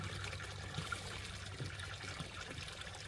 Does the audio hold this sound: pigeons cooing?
no